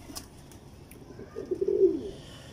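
A pair of teddy pigeons gives one soft, low coo in the second half, close by but quiet, after a near-silent stretch with no talking.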